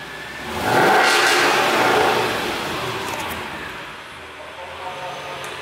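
A warmed-up Mercedes-AMG car engine blips once, a loud sweeping rev that rises quickly, holds, and then fades back toward idle, heard nearby with background chatter.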